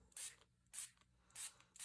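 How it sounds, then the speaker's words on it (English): A small mini mister spray bottle is pumped over paper poinsettia flowers in three quick hissing bursts, each a short airy spritz with quiet gaps between, close and faint. "And then I come in and spray."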